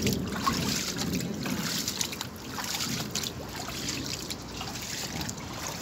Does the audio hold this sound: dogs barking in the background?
no